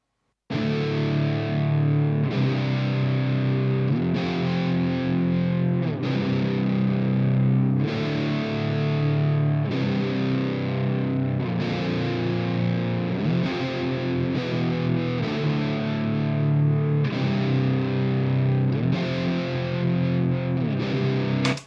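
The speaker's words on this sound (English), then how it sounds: "let's hear how it sounds without touching anything" Heavily distorted electric guitar played through an Audio Assault RVXX amp simulator plugin at its default settings, with sustained chords and riffs in loud, continuous phrases that shift every couple of seconds and no talking.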